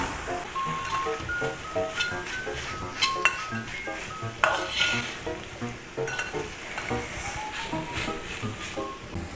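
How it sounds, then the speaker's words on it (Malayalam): Chilli pork being stirred with sauces in a hot pan sizzles steadily while a utensil scrapes and clinks against the metal in an uneven rhythm, close and fairly loud. "ഒന്നുകൂടെ ഇളക്കി ചേർത്ത് കൊടുക്കുക"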